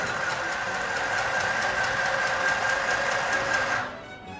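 A mini electric home sewing machine stitches at a fast, even pace, its motor giving a steady buzzing whir at close range before it stops near the end, with no talking.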